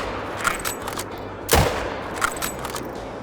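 A single sharp rifle shot rings out at a moose in a hunting game, a loud crack with a booming tail, set among fainter ambient knocks and forest sounds.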